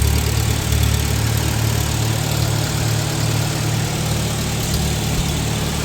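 A 1947 Farmall A or 1954 John Deere 60 vintage tractor engine runs steadily close by, a loud continuous low rumble with a slight throttle rise, no talking.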